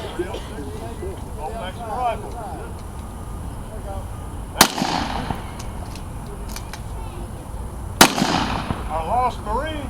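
Two loud, sharp gunshots from a 1903 Springfield .30-06 bolt-action rifle ring out seconds apart at an outdoor living-history weapons demonstration, with a voice talking through the scene between the shots.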